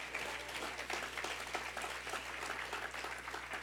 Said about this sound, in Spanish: Dele un aplauso a Cristo, hermanos.